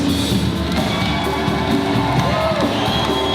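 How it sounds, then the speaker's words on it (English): An audience at a Calgary stage production claps and cheers continuously, a dense wash of applause with whoops and shouts mixed in. "give everybody a wonderful round of applause"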